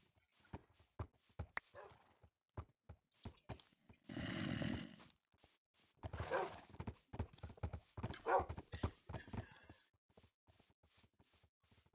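Horse hooves in the Minecraft video game clip-clop in quick, irregular bursts, with a loud whinny around the middle and a few more neighs among the steps, all fairly quiet and with no talking.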